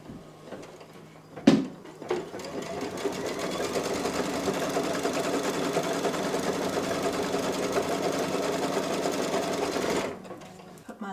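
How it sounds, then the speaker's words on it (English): Embroidery machine stitching a placement outline for a mustard bottle design, a steady rapid mechanical whirr running for about eight seconds after a sharp knock, fairly close and alone without talk. "next is the placement stitch for the mustard bottle"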